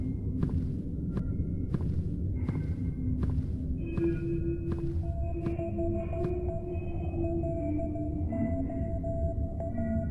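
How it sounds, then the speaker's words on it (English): Morse code beeping in a video game: a series of short tonal beeps in irregular groups, fairly clear over a low droning background, with no talking. "That's Morse code."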